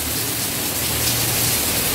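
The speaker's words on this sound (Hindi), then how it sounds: "ये देखो बारिश कैसी हो रही है," Heavy rain pours steadily over Karachi, a dense, continuous hiss of water with no breaks, close and even, with no voices over it.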